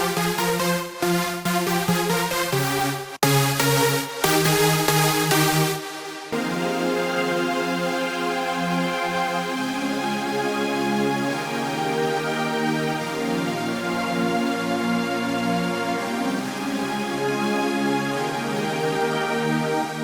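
A fat big room techno synth, thickened with OTT compression and crushing, plays gated stabs that give way to a dense, sustained evolving melody. It stays loud and full throughout with no voices.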